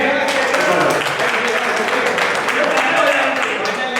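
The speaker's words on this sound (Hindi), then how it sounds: "एक बार ताली बजाएंगे।" Meeting attendees break into applause in approval of a decision, a dense, steady wash of many hands clapping at close range that fills the whole stretch without pause.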